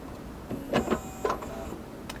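A Modela PCB milling machine powering back on, giving a few short mechanical whirs and clicks over a steady low hum, fairly close and moderately loud.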